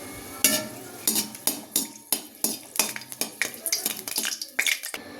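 Food frying in a pan with turmeric, salt and rice flour, stirred with a utensil: a rhythmic series of scraping, clinking strokes over a soft sizzle.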